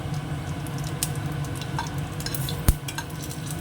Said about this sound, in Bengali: তেলটা যে গরম হয়ে গেছে দিয়ে দিচ্ছি শুকনো লঙ্কা আর একটুখানি জিরে দিয়ে দিলাম